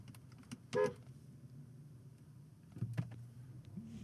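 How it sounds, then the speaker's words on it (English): A single short car horn honk sounds near the start, over steady engine and road rumble inside a vehicle, with a few faint clicks later. "if you guys just heard me honk"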